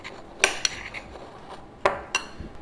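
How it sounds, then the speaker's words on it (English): Spoon scraping and clinking against a bowl while keto pizza dough is mixed, a few sharp irregular clinks with soft scraping between them, close and fairly quiet. "Just kind of mix it around a little bit."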